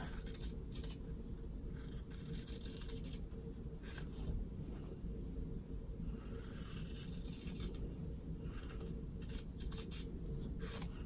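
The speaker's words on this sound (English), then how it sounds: "You can actually just cut along this because it's the same. So just go ahead and cut across." Scissors cut across fabric for a kitty pencil case, producing repeated quiet snips and rustling scrapes close by over a low steady background hum, with no talking.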